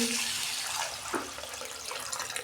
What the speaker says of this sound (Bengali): জল দিয়ে দিচ্ছি, কষানো হয়ে গেছে।